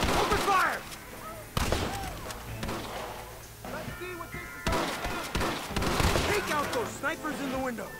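Gunfire erupts in a Red Dead Redemption shootout, with sharp, irregular shots and bursts scattered across the scene, some near and loud, others more distant, mixed with voices speaking.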